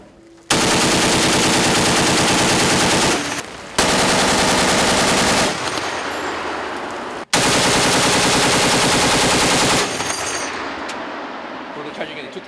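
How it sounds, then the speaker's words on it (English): Loud, sustained full-auto machine gun fire at an army training range, two long unbroken bursts of rapid shots, each lasting several seconds and separated by a brief gap, very close and dominating. "no burst just shoot full auto okay go"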